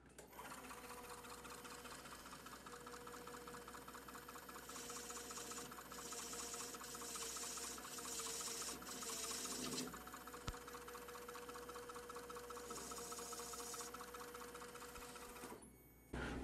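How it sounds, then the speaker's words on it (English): A metal lathe cuts a chamfer into thick stainless steel with a threading tool, giving a steady mechanical whir and hum with a faint high scraping hiss that swells in a few stretches, with no talk. "now we take our threading tool and we put a little bit of a chamfer on both sides of this thick section"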